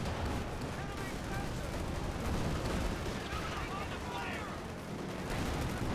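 Dense, rumbling Company of Heroes 2 battle with Panzer II tank gunfire and booming shots, a continuous roar of battle noise, loud and chaotic throughout.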